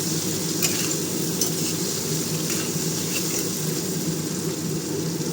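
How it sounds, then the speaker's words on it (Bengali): Potatoes frying in a pan while being stirred for a Bengali home-cooked dish of Malabar spinach with hilsa fish head, a steady close sizzle with scraping spoon strokes throughout, no talking. "এবার আলুটাকে নাড়াবো।"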